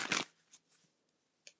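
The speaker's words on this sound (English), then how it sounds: "See, I'm shuffling the deck, right?" Deck of tarot cards being shuffled close by: a quick riffling burst followed by a few soft taps and slides, then near silence.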